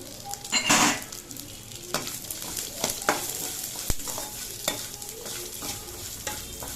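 Onions frying with green chili and ginger in oil for upma, a steady close sizzle broken by a burst of spitting as they go in, then irregular clinks and scrapes of a stirring spoon.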